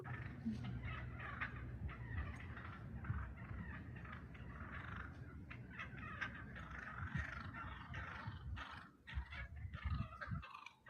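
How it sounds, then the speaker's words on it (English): Turkeys trail a mail carrier outdoors, gobbling and clucking in an ongoing chorus of fowl calls at moderate distance, faint and steady against a low background. "He's got these turkeys following him."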